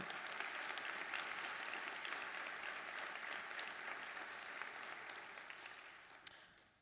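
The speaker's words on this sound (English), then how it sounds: "Let's give them another round of applause." An audience at an 8th grade honors and graduation ceremony gives another round of applause: a faint, sustained wash of clapping heard from a distance that gradually thins out and fades.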